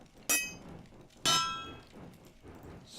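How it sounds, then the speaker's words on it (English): Two sharp metallic hammer blows ring out about a second apart, each with a bright clanging decay, against a quiet background. "And right there. With a hammer."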